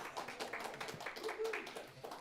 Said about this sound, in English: They applauded you for that